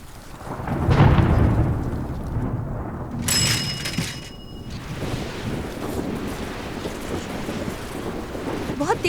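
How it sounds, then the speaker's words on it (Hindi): Heavy rain pours down during a village storm with deep rumbles of thunder, a loud roll near the start, then a steady hiss of rainfall continuing underneath. "बहुत तेज बारिश होने वाली है"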